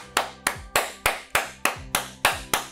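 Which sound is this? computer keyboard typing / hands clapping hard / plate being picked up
hands clapping hard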